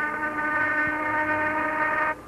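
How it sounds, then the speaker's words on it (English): A railroad shop's noon whistle sounds as one steady, loud, harmonic blast lasting about two seconds before cutting off abruptly, with a low background rumble beneath it. "There goes the noon whistle."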